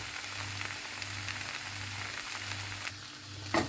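A pancake sizzles and fries in a pan, a continuous soft crackle at moderate, steady loudness, then a brief clatter near the end as it is handled.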